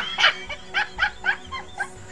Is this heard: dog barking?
yes